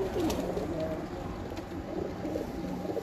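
Pigeons coo softly in a loft setting, low throaty calls mixed into a continuous noisy background without clear speech.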